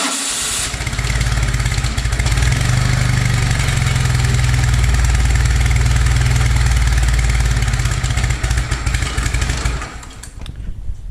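A Toro 2CV tractor engine sits idling after a quick start, a loud, steady, close-up chugging rumble with a rapid even beat that holds for about ten seconds and then eases off.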